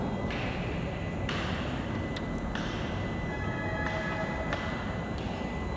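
LRT light rail train passing in Manila, a continuous broad rumbling roar with clacking wheel bursts and faint high squeals, heard from a high vantage point.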